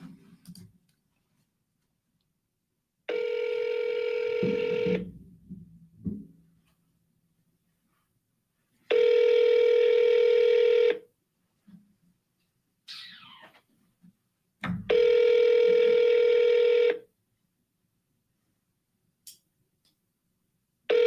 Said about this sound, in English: Let me try calling Francis back